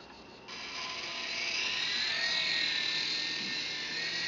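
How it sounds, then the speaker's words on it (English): A micro coaxial infrared indoor toy helicopter starts up and flies, giving a steady high-pitched whirring buzz of small rotors and motor that swells slightly and holds, close and fairly loud. "we're going to turn on our transmitter, we're going to turn on our helicopter"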